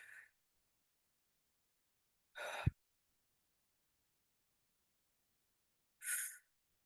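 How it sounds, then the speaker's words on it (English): Slow deep breaths during a guided healing meditation, three separate airy exhales through the mouth spaced a few seconds apart with silence between, soft and close. "we're just going to take a few deep breaths through the mouth and then releasing through the mouth"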